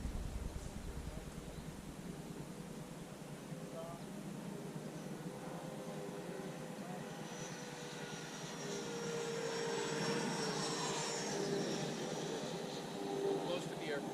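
A Freewing F-22 Raptor 90mm RC jet passes overhead with a steady, rising turbine whine that grows louder toward the end, under a constant background rush, while people talk nearby.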